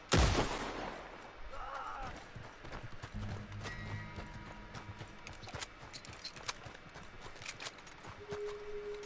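Horse hooves clip-clopping in Red Dead Redemption 2 Online free roam, a steady rhythmic gait under game ambience with a sharp gunshot-like bang at the start and scattered faint clatter.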